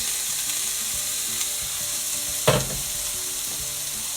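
Vegetables sizzling in a frying pan for yakisoba, a steady close hiss with one brief clatter as the pan is shaken.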